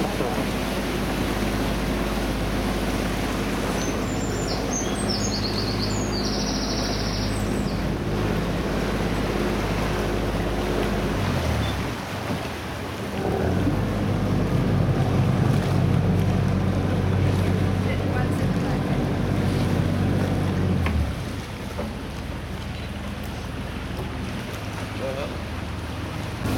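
Boat gliding through the canals of Bruges early in the morning, a steady low engine rumble with wind and lapping water, the drone swelling for a stretch midway before settling back.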